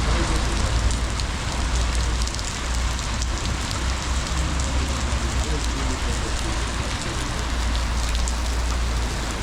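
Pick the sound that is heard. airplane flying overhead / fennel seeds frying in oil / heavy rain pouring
heavy rain pouring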